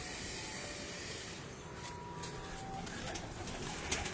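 Pigeons coo on a rooftop loft in Faisalabad, soft repeated calls over a steady outdoor background hiss, with no talking.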